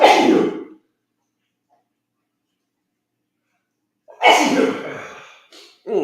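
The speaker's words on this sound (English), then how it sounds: "I'm gonna sneeze" Two sharp, close human sneezes separated by a few seconds of silence, the second followed by a short breathy tail.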